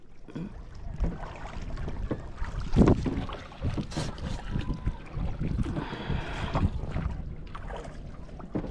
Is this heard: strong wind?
yes